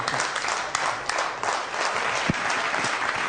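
Audience applause at a televised talent show performance of a Quba strongman, dense sustained clapping from a crowd, loud and near with a few sharper claps standing out.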